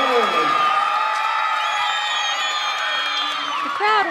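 A gymnastics crowd cheers and whoops loudly and steadily after a women's routine at a Boise State at Utah State meet, with shrill shouts over a dense roar and a commentator's voice faintly underneath.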